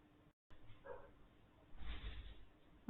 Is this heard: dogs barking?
yes